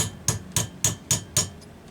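Five sharp, evenly spaced metal hammer strikes bending back a locking tab on a McCulloch Pro Mac 10-10S chainsaw plate, close and ringing, with no talking.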